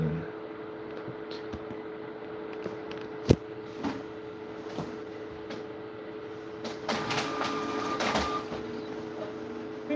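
A printer running in an indoor room, with a steady low mechanical hum, a sharp click partway through and a busier whirring stretch toward the end.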